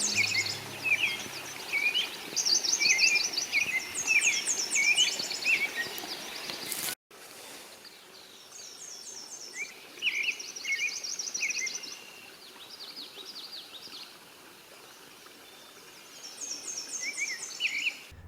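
Several birds sing and call in spring woodland during migration season, bright varied phrases and chirps repeating across the whole stretch over a soft outdoor hiss, fairly distant with no voices.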